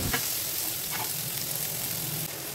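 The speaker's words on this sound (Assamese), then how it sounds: "বিলাহীখিনি দি আকৌ ভালকৈ এবাৰ লৰাই দিছোঁ।" Chopped tomatoes frying in hot oil with onions are stirred in a pan, giving a dense, close, continuous sizzle with a couple of soft scraping strokes and no voices.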